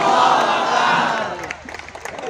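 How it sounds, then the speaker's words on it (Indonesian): A large crowd at an Islamic religious gathering roars with loud shouting, takbir chants and cheering that slowly fades into scattered claps. "Tepuk tangan takbir."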